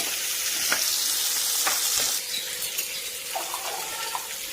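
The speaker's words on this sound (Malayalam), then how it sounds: "അപ്പുറത്ത് ആ സമയം മീൻ വറക്കാനും വെച്ചിട്ടുണ്ട് കേട്ടോ." Fish frying in a pan gives a loud, dense, continuous sizzle close by, easing somewhat partway through, with a few faint clinks of utensils.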